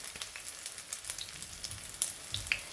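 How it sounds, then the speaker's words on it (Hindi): Chapli kebabs, Peshawari style, frying in hot oil over medium-high flame: a steady, quiet sizzling hiss with scattered sharp crackles and pops, no talking. "अब मैं कबाब फ्राई करना स्टार्ट कर रही हूँ"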